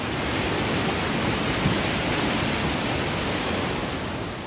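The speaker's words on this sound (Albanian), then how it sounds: "Proji që kalon në mes të Himarës ka dalë nga shtrati për shkak të rreshjeve intensive" Loud, steady roar of rushing floodwater, a dense unbroken wash of sound with no voices.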